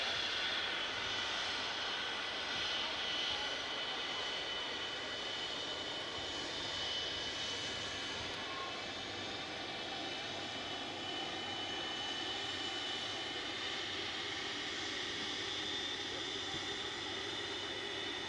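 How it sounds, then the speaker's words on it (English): An aircraft taxis past at Manchester Airport with its engines running, giving a loud, continuous jet roar and whine that holds steady throughout, with no voices. "As the aircraft taxis past"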